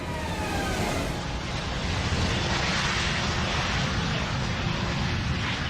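DC-10 airliner in flight on its two remaining wing-mounted engines after the number 2 engine is shut down: a loud, steady, broadband jet roar that runs unbroken throughout, with no voices.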